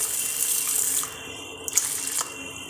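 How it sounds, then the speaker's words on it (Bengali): Warm water is poured over a cup of moong dal in a bowl to soak it. The pour is a brief, close stream that splashes and trickles for a couple of seconds, with a small click partway through. "এবার এটাকে আমি একটু গরম জল দিয়ে ভিজিয়ে রাখবো, উষ্ণ গরম জল দিয়ে"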